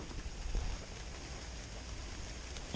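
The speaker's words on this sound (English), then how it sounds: "Still raining off and on." Steady rain falling off and on along a lakeside hiking trail with wet rocks, a broad, even hiss of drops on the surroundings that continues without a break throughout.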